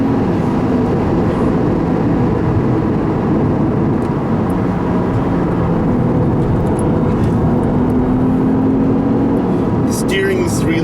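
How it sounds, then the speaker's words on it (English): A 2014 Lexus IS350 F Sport pushed hard through a corner, its engine and road roar loud and steady from inside the cabin, with a rising engine note near the end. "So we'll go ahead and really get it around this corner."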